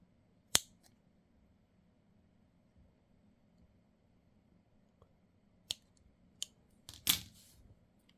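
Scissors snip through a Daiso plastic laptop stand, several sharp, isolated cuts separated by long quiet gaps, close and fairly crisp, with no talking.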